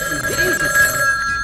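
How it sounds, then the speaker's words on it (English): A telephone rings on the set of a classic children's clown TV show, a steady electronic ringing tone sounding clearly and continuously throughout. "Maybe that's a volunteer phoning now."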